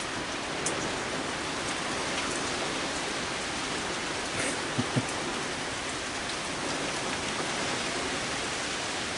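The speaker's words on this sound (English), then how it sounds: "It's raining hard." Heavy rain pouring steadily during a storm with high winds, a dense continuous hiss of drops with a couple of brief louder splats near the middle.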